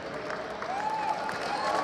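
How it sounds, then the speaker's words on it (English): An esports audience at a 2016 ESL Overwatch Atlantic Showdown claps and cheers for Rogue, a steady roar of applause with whistling tones threaded through it. "And if anyone in the crowd is rooting for Rogue, give it up."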